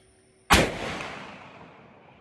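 A single loud CVA Optima V2 muzzleloader rifle shot fired at a 150-yard target, a sharp blast after a half-second of quiet followed by a long, slowly fading outdoor decay.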